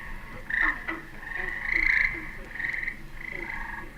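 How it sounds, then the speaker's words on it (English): Tree frogs croak in repeated bursts, a chorus of bright chirping calls overlapping at moderate volume against a quiet background. "those tree frogs are more of them singing"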